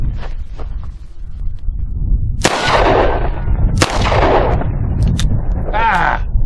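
A Charter Arms Bulldog .44 Special revolver fires at a target 7 yards away, with two sharp, loud booming shots about a second apart that ring out over steady wind noise and a faint clank.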